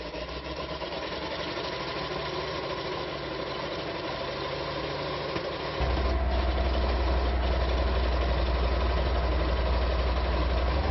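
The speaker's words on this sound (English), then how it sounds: "here it is, the fighting Hellcat in action" A Hellcat tank destroyer's engine runs in a steady, rumbling idle that deepens and strengthens partway through as it settles into a heavier, louder drone, close and continuous with no speech.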